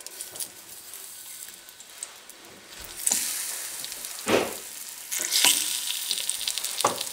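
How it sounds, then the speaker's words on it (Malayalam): Banana pieces sizzling in hot ghee in a pan, a continuous crackling fry that swells louder partway through, with several bursts of stirring and spattering. "അപ്പോൾ ഇതിലേക്ക് നമ്മളുടെ നെയ്യ് ചൂടായിട്ടുണ്ട്. നമ്മളുടെ ബനാന ഇട്ട് കൊടുക്കുക."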